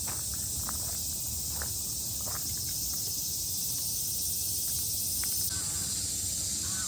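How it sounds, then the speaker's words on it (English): A dense, steady chorus of insects buzzes and shrills at a Tokyo military shrine, constant throughout, with scattered faint clicks and soft sounds in the background. "there's a lot of bugs in here in the background"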